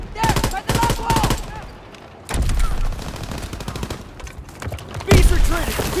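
Gunfire in Call of Duty: WWII, with rapid bursts of shots and explosive blasts coming loud and dense in overlapping volleys, mixed with game voices shouting over the battle throughout.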